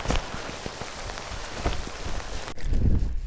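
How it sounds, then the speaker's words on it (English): Steady rain patters on a lake during a fall bass fishing trip, making a close, dense hiss with scattered sharper drops. A low rumble or knock comes in near the end. "While it's raining."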